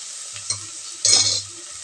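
Tomatoes stirred into frying onions for chicken biryani, brief spatula scrapes followed by a bright burst of sizzling around the middle, close and alone without speech.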